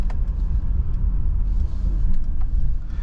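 A 2024 Mercedes-Benz GLE 350 SUV driving, heard from inside the cabin as a loud, steady low road rumble and engine drone with faint interior clicks.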